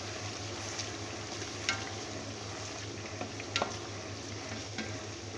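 Steady sizzling of masala with garlic-ginger paste in a hot pot for beef biryani, with occasional scraping clicks of a spoon stirring, continuous and moderately close, no voices.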